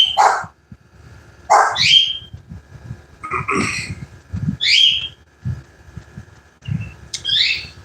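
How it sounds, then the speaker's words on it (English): Several dogs bark in short bursts, about one every second or so, mixed with chirping birds and some whistling tones. "Now I got the dogs barking."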